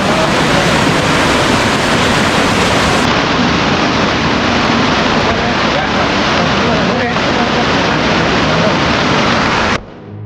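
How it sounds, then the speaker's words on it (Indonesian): A large river flows beneath a suspension bridge near Sukabumi, heard as a loud, steady broadband rush of water that fills the whole stretch without a break and drops away abruptly at the end. "Wah, sungainya lumayan gede."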